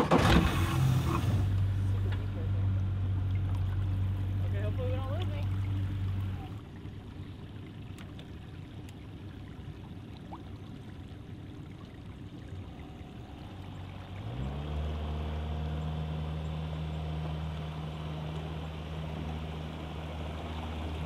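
A motorboat on the Delta Clearwater River in Alaska: a steady low motor drone over rushing water, the engine pitch dropping midway and then rising again as it revs up.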